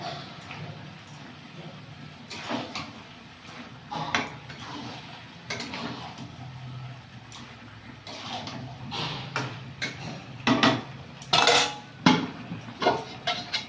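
Metal spoon scraping and knocking against a cooking pot as chicken is stirred and fried with sour yogurt in a village kitchen, irregular clanks and scrapes growing louder and busier toward the end, with no talk.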